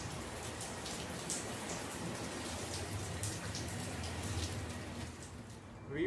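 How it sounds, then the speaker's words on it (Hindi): Heavy rain pours down steadily in a broadband hiss with scattered drops tapping a surface, holding a constant level for several seconds with no talk. "लेकिन बारिश बहुत तेज़ है, आपको आवाज़ तो आ रही होगी।"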